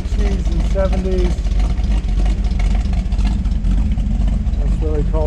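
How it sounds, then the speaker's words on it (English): Low, even exhaust rumble from an idling 1968 Pontiac Firebird 400 convertible, heard up close and steady throughout, with someone talking over it. "Again, had the nice little rumble, not loud or obnoxious, but sounds very nice."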